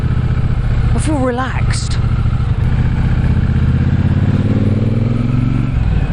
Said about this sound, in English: Love the sound of the engine.